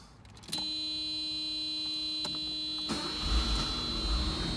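A 1986 Mercedes 560SL engine cranks and catches, then settles into a steady idle hum with a high whine, heard close by with no talking.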